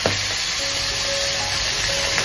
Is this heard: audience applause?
no